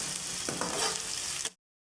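Onions and garlic fry in a pan for aloo gosht, giving a steady close sizzle with a few stirring scrapes, then a sudden cut to silence near the end.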